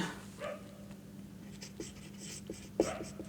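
A pen writes a heading by hand on paper, with soft scratchy strokes and a few short taps, close and quiet in a calm room.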